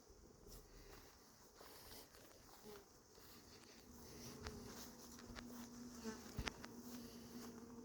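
Hornets and honeybees buzz around hives at an apiary, a dense steady drone close by with a low hum growing louder in the second half and scattered faint taps.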